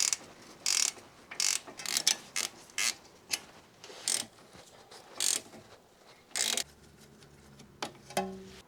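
Ratchet wrench loosening the rear brake caliper bolts on an NC Mazda MX-5 Miata during a disc and pad replacement, heard as a string of short, close clicking bursts in an irregular rhythm, mostly alone and with no speech.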